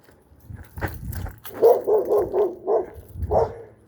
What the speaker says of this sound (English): I thought I heard a dog.